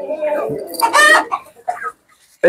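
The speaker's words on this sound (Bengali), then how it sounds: "এই দেখেন আমাদের খামার নতুন সেট আপে নতুন মুরগি" Farm chickens, bantam and American breeds in a newly set-up poultry house, give loud close clucks and squawks in short irregular bursts, with a brief pause before another call.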